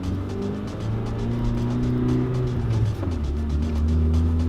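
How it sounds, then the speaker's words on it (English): Car engines hum and drone close by, with vehicles moving past in a continuous flow of traffic noise; no one speaks. "Look at all these cars."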